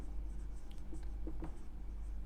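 Quiet handwritten note-taking during a class on resistors in series and parallel, a few faint pen strokes and taps over a low steady hum, with no voices.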